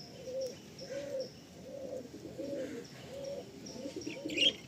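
Pigeons kept for sale at a seller's place in Behala Chanditala coo in a steady, repeating rhythm of low, throaty phrases, close by, with faint chirps from other birds above.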